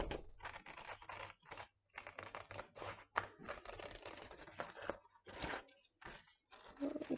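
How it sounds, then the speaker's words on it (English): Scissors cutting a circle out of thin, colorful suncatcher material sized to fit a mason jar lid: a dense run of crisp snipping and crinkling sounds in quick bursts, close and fairly faint, with short pauses between cuts. "So I'm cutting, getting all those pretty colors."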